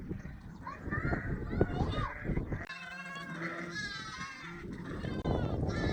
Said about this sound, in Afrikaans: Gaan jaag gou vir mamma die skape in die kraal.